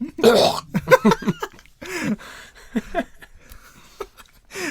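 A few hoarse coughs and throat-clearing sounds, close and uneven, scattered among short vocal noises with quiet pauses between.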